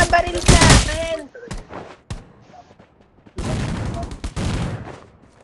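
Loud shotgun blasts in the mobile battle royale Rules of Survival, a few heavy booming shots with gaps between them, close and punchy, mixed with excited talking.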